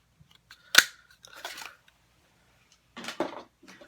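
A 3/4 inch round paper punch cuts paper twice. Each cut is a sharp, quiet click or snap, and the two are spaced a couple of seconds apart with some faint rustling between them, and no voices.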